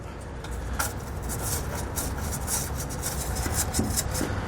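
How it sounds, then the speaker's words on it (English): Steady wire-brush scrubbing rasps inside weld nut holes under a 2021 GMC Sierra bed, a continuous close-up scratching with brief brighter strokes throughout and no talk. "And then I'm going to take a wire brush here. We're just going to clean those out as best as we can."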